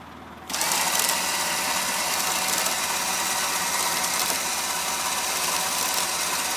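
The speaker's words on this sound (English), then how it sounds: "As long as the cable keeps spooling nicely, you can keep going." A winch spools cable under load while pulling, its motor starting abruptly after a brief pause and then running as a steady, close, loud mechanical whir with a gritty grinding edge.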